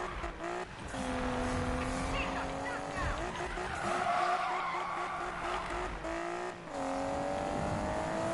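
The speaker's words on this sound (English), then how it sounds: "I never meant for this car to actually be sliding." Tyres skid and squeal as a car drifts in Need for Speed (2015), a long sustained screech with rising and falling engine tones that runs almost without a break and dips briefly near the end, loud and close.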